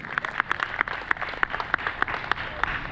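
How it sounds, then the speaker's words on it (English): A small audience at a Republic Day celebration in a Hindu temple claps in a light, uneven patter of individual hand claps, fairly close, with faint voices underneath. "Audience, clap for Priyanshi."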